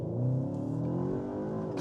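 A Cupra Terramar with a 1.5 litre turbocharged mild-hybrid engine, set in its sport drive mode, pulls hard under acceleration with a smooth rising hum, heard from inside the cabin and held steady and fairly quiet.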